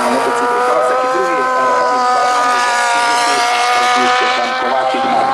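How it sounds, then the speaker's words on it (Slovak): Kawasaki racing motorcycles in a Classic Superbike race on a track, loud sustained high-revving engine whine with layered harmonic tones, steady and close throughout. "tam vedie Václav Kropěk mladší na motocykle Kawasaki druhý"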